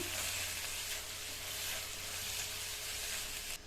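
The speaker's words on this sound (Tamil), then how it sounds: "இந்த தக்காளியை நல்லா வதக்கி விட்டுக்கலாம்." Tomatoes and cashews sauté in a pan for a Tamil-style paneer butter masala, giving a steady, close sizzle and frying hiss with no voices.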